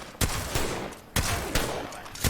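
Mastiff shotgun blasts from Apex Legends, four loud, close, sharp shots spaced roughly half a second apart with short decaying tails, no talk over them.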